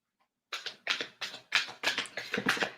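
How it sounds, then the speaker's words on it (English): Close, crisp tarot card shuffling in about eight quick, regular bursts after a brief silence. "I'm gonna shuffle."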